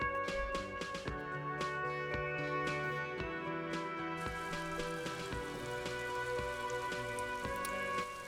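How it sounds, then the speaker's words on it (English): Steady rain falling over the city of Revachol in the video game Disco Elysium, a continuous patter of drops on surfaces with a low ambient bed beneath, constant throughout with no voices. "All around you, rain falls on the great city of Revachol."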